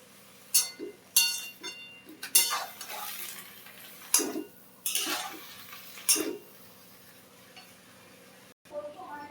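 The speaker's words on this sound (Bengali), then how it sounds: "এখন নেড়ে দেব।" Gourd leaves with turmeric powder and salt being stirred in a cooking pot, with a handful of scraping, clinking strokes of a utensil against the metal at irregular intervals over a low sizzle, close and fairly quiet.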